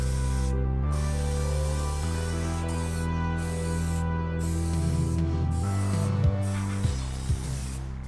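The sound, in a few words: spraying primer coats onto an eBay car spoiler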